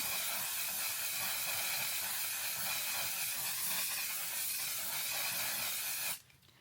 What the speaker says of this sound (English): I like to go in with some setting spray